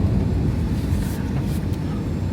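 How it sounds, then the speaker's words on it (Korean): A passing airplane, heard from indoors on a trip in Fukuoka, Japan, makes a steady low rumble that fills the whole stretch, with faint higher swishes partway through. "이제 비행기 날아간다"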